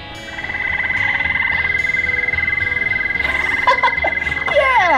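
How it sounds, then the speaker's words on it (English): A recording of a toad croaking plays from a push-button animal sound display at a children's museum, a loud continuous trilling croak held for several seconds. "that's the toad"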